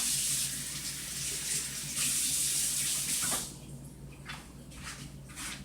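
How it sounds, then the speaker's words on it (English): Water runs from a tap as hands are washed during pastry-making, a steady close hiss that drops in level partway through and then continues as softer, uneven splashing. "Let me wash my hand."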